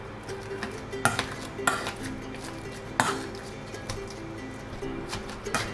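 Three boiled eggs are mashed in a bowl with a utensil, giving irregular clinks and knocks against the dish over a low steady background hum, with no voices.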